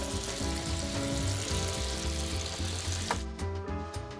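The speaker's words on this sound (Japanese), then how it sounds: "じゃあホタテを焼いていきます。" Scallops frying in a pan with olive oil and butter, a close, steady crackling sizzle with soft background music beneath it and no talking.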